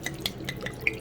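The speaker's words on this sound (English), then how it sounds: "I'm gonna put some water in here." Water poured into a bowl for bread dough in a home kitchen, heard as quiet splashes and a few bright drips and trickles, close and soft.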